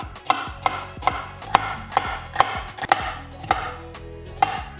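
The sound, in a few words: knife chopping yellow and red capsicum into strips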